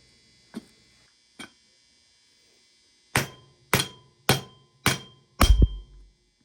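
A bearing hammered onto a shaft of an XR250 motorcycle: two light taps, then five sharp, ringing metallic hammer blows in steady succession, the last a heavier, duller thud, with a faint hum underneath.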